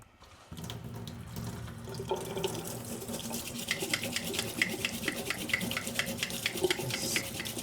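Water running steadily from a kitchen tap into a glass for a drink, a continuous close splashing flow that lasts throughout with small dripping and clinking accents.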